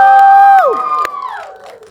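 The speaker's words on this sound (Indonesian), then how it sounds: "Boleh tepuk tangan sekali lagi untuk Zara Adisti" Cheering and applause for Zara Adisti at a press conference for the film Rumah Singgah, loud sustained shouting from a crowd at first, then voices trailing off.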